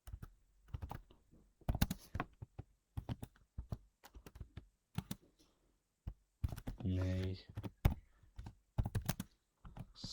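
Rapid clusters of keyboard keystrokes tapping out a question in short bursts, close by, alternating with a voice talking between and over the typing.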